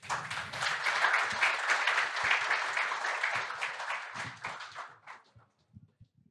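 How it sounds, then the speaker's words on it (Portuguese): An audience at an engineering conference session on artificial intelligence breaks into applause, a dense burst of clapping that holds strong, then tapers off into a few scattered final claps and quiet. "Por gentileza, uma salva de palmas."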